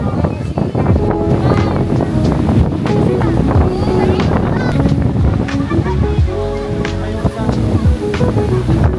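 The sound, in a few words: wind at the beach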